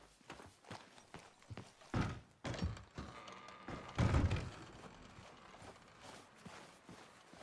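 Horses in the video game Red Dead Redemption, with irregular hoof clops and thuds over a noisy game soundscape, a few heavier hits standing out.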